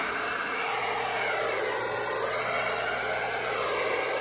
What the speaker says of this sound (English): I'm using a different blow dryer now. This is a Revlon